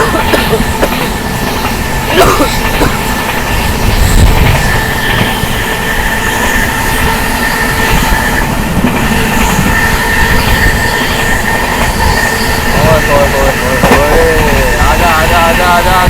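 The Sampoorna Kranti express train roars past at high speed, a loud, continuous rush of wheels and rattling cars with some squealing, heard close up under excited voices.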